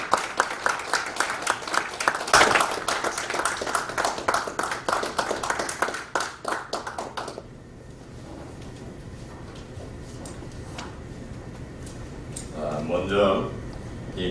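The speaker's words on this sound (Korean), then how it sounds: "앞으로 나오실 때 큰 박수로 뜨겁게 환영해 주시기를 부탁드립니다" An audience claps to welcome a lecturer to the stage at a special Constitution Day lecture, crisp individual claps that fade out about halfway through, followed by quieter room tone and a brief voice near the end.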